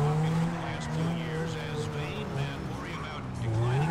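A car drifts in Grand Theft Auto V with a wavering tire squeal over a rising and falling engine, and a voice talks on top of it.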